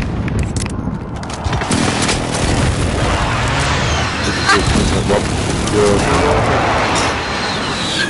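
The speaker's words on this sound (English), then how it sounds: "Friendly position airstrike inbound." Airstrike explosions in a first-person shooter game roll in as a dense barrage of loud, overlapping booms and crackling blasts with a continuous heavy rumble.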